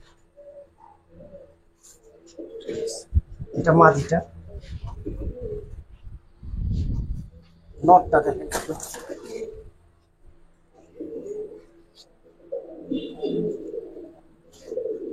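Soft pigeon coos come from a home loft of fancy pigeons, heard in short low bursts between stretches of close conversation, with handling noises and thumps mixed in.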